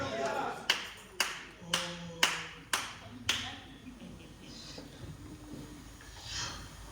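A church congregation claps in a steady rhythm of six sharp, evenly spaced claps, then the clapping stops and a voice and low murmur continue underneath.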